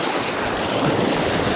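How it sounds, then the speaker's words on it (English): Constant non-stop ocean waves splash and roar loudly against the shore in a continuous wash of surf, buffeted by heavy wind noise on the microphone, with no voices. "pop my head forward in between these bloody non-stop waves"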